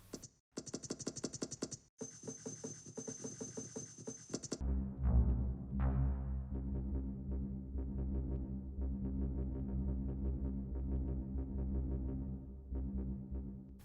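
Electronic menu music and clicky interface tones from the GTA Trilogy Definitive Edition after patch 1.03, first a bright buzzing pattern, then a looping synth tune that plays on, no voices.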